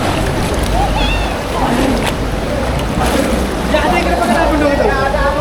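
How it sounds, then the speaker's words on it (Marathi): Wave pool at Wet N Joy water park, churning and splashing water as waves pull in and release, loud and close, with people's voices and shouts mixed in over the surf. "तिथनं लाटा, पाणी आत ओढतंय, पाणी सोडतंय"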